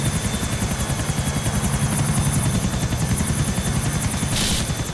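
A helicopter in the video game GTA flies with a steady, loud rotor chop and engine whine, continuous and close throughout.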